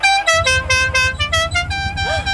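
A car horn honks in a long sustained blast with brief dips and re-presses, loud and close, over a low idling engine rumble.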